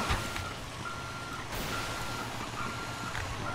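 Truck reversing in the video game GTA5 Online, sending out a steady series of high beeps over engine rumble and gameplay noise.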